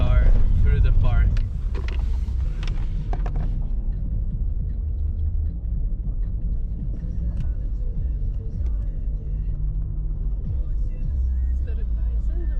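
A car drives slowly along a road through Wind Cave National Park. Its engine rumbles low and steady, and occasional voices speak inside the cabin.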